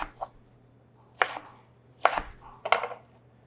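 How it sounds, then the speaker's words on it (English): A knife quartering rinsed lemons on a board, four separate crisp chops spaced about a second apart, close and clear against a quiet room. "We're going to quarter these lemons that have all been rinsed and clean on the outside"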